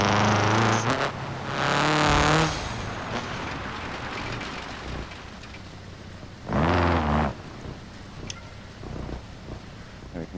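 Steady rain hisses through a BeamNG rally drive in a game, while a rally car's engine roars in loud bursts over it and then drops back to the rain.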